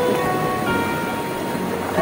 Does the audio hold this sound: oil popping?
no